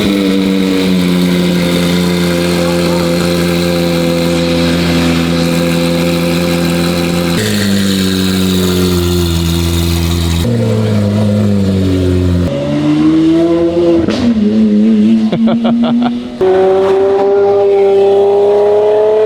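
A Lamborghini Aventador S fitted with equal-length headers and a valved rear exhaust revs hard and loud up close, the engine note rising and falling through sustained blips, with sharp crackles near the end.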